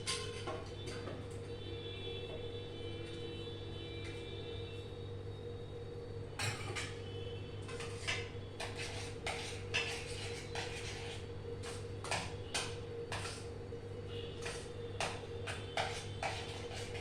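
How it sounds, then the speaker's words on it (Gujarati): Vegetables are stirred into a pot of veg biryani, with a steady low kitchen hum and, from about midway, a run of close, irregular clinks and scrapes of a spoon against the pot. "સાકર નાખી દઈએ અને કોથમરી અને ફુદીનો અને સાથે આ બધા વેજીટેબલ્સ આપણે અંદર મિક્સ કરી દઈએ"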